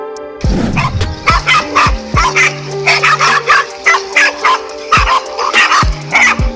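Several dogs fighting a cobra bark in rapid, loud, overlapping bursts, close and relentless for the whole stretch with no talking.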